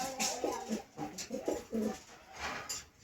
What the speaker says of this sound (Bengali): এখানে রয়েছে এক জোড়া বাচ্চা কবুতর